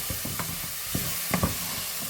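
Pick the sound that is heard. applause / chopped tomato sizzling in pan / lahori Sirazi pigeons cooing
chopped tomato sizzling in pan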